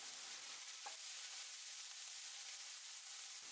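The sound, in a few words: stirring ginger, garlic and cashews frying in pan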